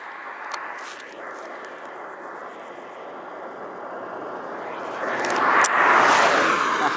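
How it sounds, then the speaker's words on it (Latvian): A helicopter lifts off from a field close by, a steady broadband rotor and engine roar that holds for several seconds, then swells louder toward the end as it climbs away. "Izrādās helikopters. Pat pacēlās no kaut kāda lauka gandrīz man blakus."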